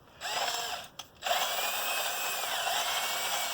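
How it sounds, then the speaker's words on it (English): A cordless drill grinding coffee beans whirs at steady speed with a grinding edge, stopping briefly twice early on before running continuously. "So I'm using a battery operated drill."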